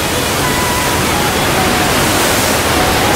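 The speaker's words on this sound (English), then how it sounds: "There you have it, Eaton Falls." Eaton Canyon Falls in a canyon, a steady, loud roar of falling water that fills the whole clip evenly with dense broadband hiss and no breaks.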